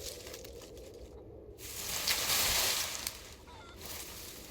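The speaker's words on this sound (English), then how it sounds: "And I hear a chicken." A chicken in the DayZ survival game during a snowy winter clucks faintly, with a couple of short fowl calls mixed into a quiet windy ambient bed.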